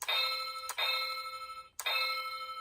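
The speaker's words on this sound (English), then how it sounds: "This little bell goes off." Little bell effect from a Super Sentai show, bright metallic ringing tones struck three times with sustained shimmering decay, clear and alone.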